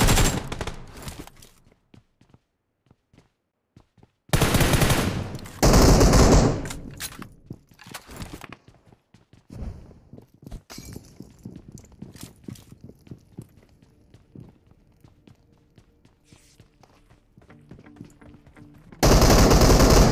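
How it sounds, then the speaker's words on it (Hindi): Gunfire from all sides in the Free Fire battle royale video game: loud, dense automatic bursts open and close the stretch, with scattered quieter shots and clicks in between. "बंदे का फायर की आवाज़ तो चारों तरफ से आ रहा था"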